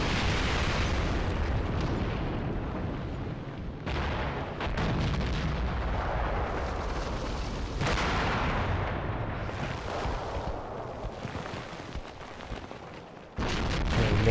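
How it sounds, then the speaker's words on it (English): Artillery shells land around an 88 gun position in Graviteam: Fateful Strike, a WWII tactics game, with heavy rumbling blasts rolling over each other in a continuous barrage, some distant and some close and sharp. "So we got artillery dropping right where our 88 is."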